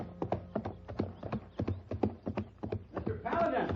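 A horse's hooves clip-clop at a steady walking pace on hard ground, close and distinct, with a rougher scuffle of noise at the end, in an old western radio drama.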